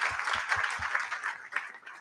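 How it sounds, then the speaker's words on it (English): An audience at a New York Fashion Week collaboration show claps briefly, a short spell of scattered applause with a few distinct hand claps near the start, at moderate level. "just a really big round of applause to everybody who thought of this, who made the collaboration"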